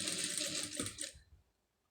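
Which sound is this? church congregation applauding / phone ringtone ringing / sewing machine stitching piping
sewing machine stitching piping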